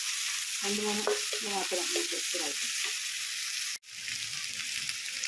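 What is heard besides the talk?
sizzling as masala powders are added to the frying pan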